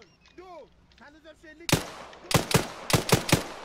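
Gunfire in the military shooter game Arma 3: a burst of sharp, loud shots in quick succession, several close cracks clustered near the end, following a brief stretch of chirpy, tonal game sounds.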